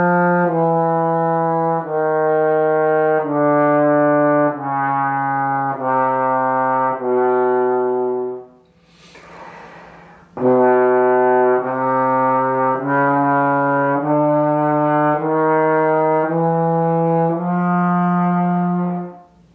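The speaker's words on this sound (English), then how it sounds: "is to do the chromatic scales. Starting from the first position and going down and back up." A trombone plays a chromatic scale, moving slide position by slide position from first position downward. After a short breath, it climbs back up in sustained, even notes that are close and loud.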